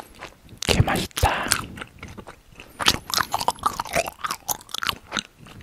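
Swedish jelly candy chewed close to the microphone, with wet, squishy bites and rapid sticky chewing in a continuous irregular rhythm, loud and intimate with no talking.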